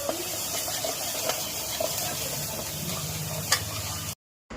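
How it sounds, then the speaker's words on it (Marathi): An onion-coconut paste with spices sizzles and hisses steadily in a hot pan for crab curry, a close, even frying crackle with a few small pops, alone with no talk. "हे छान फ्राय करून घेऊया।"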